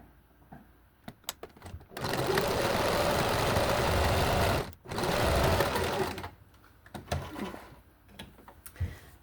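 Sewing machine stitching sweatshirt seams, two steady, loud runs of rapid mechanical whirring of about three and two seconds, separated by a short pause, with quieter clicks and handling before and after.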